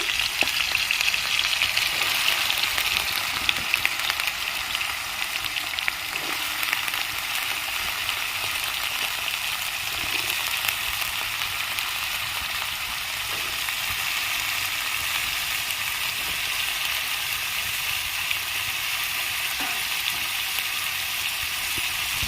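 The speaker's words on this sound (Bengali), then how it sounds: "এবার আমি আলুগুলো দিয়ে দিচ্ছি আলুগুলো ভেজে নেব" Potatoes fry in hot oil for a paneer-free poppy-seed dish, giving a dense, continuous close sizzle with faint crackles throughout and no talking.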